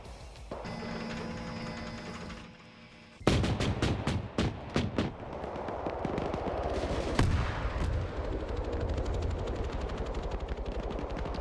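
Autocannon and gunfire in the video game Arma 3, a low electronic hum giving way to sharp rapid bursts of shots followed by sustained rattling fire and rumble.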